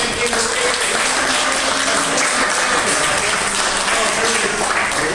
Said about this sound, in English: All right, give them both a round of applause.